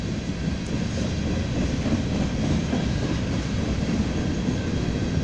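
A BNSF freight train rolls past at a slow pace, giving a steady, dense rumble with a faint hiss on top that holds even for about five seconds, with no voices.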